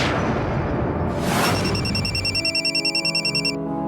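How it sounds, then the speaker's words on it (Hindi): A phone bell rings in a quick pulsing electronic pattern, loud and close, after a short whoosh and some rustling at the start, with no talking. "थोड़ी देर में मुनज्जा के फोन पर बेल हुई।"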